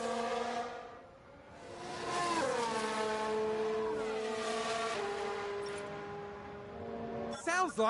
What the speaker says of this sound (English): Sounds like we've had a spin.